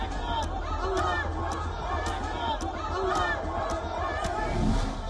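An angry crowd storming the airport in Makhachkala, Dagestan, Russia: a dense, continuous roar of many voices shouting and chanting together, steady and loud throughout with recurring rhythmic surges.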